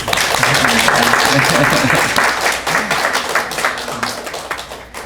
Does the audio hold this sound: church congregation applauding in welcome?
yes